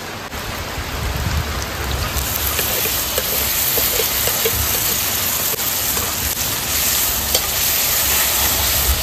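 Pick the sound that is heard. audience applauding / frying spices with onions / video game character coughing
frying spices with onions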